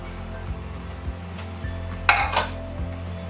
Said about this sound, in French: Je vais transvaser ça là-dedans.